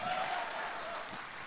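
A stand-up comedy audience in Indonesia breaks into applause, a soft, steady wash of clapping heard from afar that holds evenly for the brief moment.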